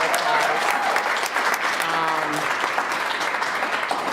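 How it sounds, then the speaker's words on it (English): An audience at a college business school's faculty and staff awards banquet applauds, a dense, even clapping from a roomful of people that holds steady and close throughout. "So if everybody can just give her a little round of applause."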